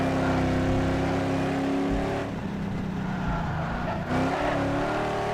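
Cars street racing in the Ford Street Racing video game: a loud, continuous engine drone with steady revving and a brief dip in pitch midway, heard alone without talking.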